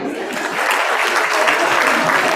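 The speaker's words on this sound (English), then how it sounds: "One more round of applause." An audience applauds after a panel at a business investment launch conference, a full, even wash of clapping that swells slightly and keeps going without any voices on top.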